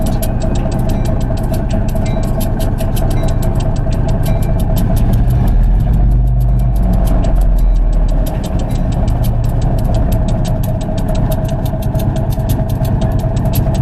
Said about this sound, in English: 1860 pulls away from the train as the air line for the brakes breaks apart